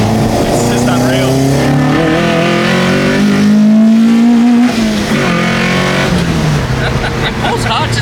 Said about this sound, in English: It pulls hard to the limiter.